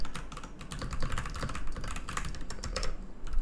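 Rapid, steady typing on a computer keyboard, with close, crisp key clicks in a continuous irregular stream and no voices.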